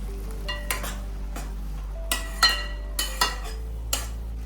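Pav bhaji vegetables with frozen peas cooking in a pan, with a low steady bubbling bed under repeated sharp metallic clinks of a spoon against the pan at irregular intervals.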